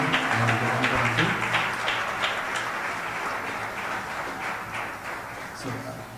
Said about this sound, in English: Please give a round of applause for the speakers, Golkar uncle and Golkar uncle.